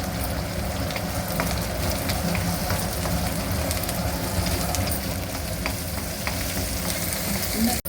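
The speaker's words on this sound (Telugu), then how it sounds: "కరివేపాకు, కొంచెం ఆనియన్ లైట్గా ఫ్రై కావాలండి." Curry leaves and onion frying lightly in a pan for a sweet potato gravy curry, a steady dense sizzle and crackle running continuously at close range with no talking, cutting off abruptly at the very end.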